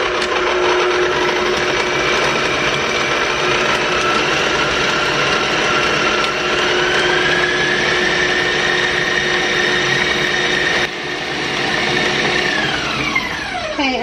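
Electric mixer beating cake batter flavored with almond extract and a little milk, a steady loud whir running continuously near the mic before winding down at the end.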